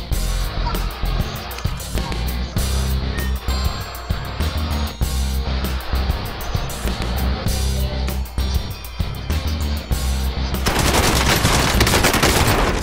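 Video game gunfire crackles in rapid automatic bursts, loud and close, broken by short gaps. Near the end it becomes a denser, continuous spray of shots.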